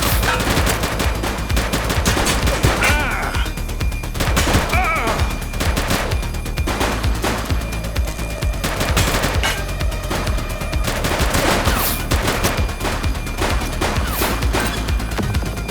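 Sustained automatic gunfire crackles loudly throughout a police shootout in The Precinct video game, with rapid bursts overlapping one another and heavy impacts mixed in, a near-continuous barrage with no talk.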